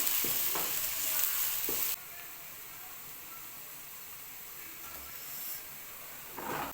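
Chopped onions sizzle steadily in a hot pan, a bright hissing fry with occasional stirring scrapes, close and continuous.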